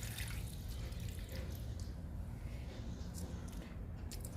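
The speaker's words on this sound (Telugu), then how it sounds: "ఈ మొక్కకు కూడా ఇస్తున్నాను లిక్విడ్." Liquid fertilizer poured onto a potted indoor plant, a faint, soft trickle and patter of liquid soaking into the soil, quiet and close, with no talking.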